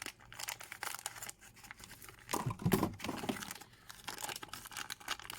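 Scissors cut open a plastic bag of Superlink Micron toy boosters, making soft, close crinkling and snipping rustles in irregular bursts, with a louder crackle midway and no voices.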